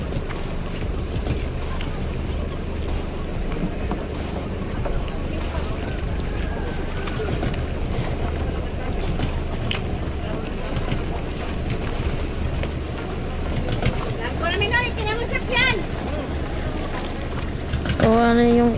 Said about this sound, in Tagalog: So, ayan po yung sinakyan nila na bangka.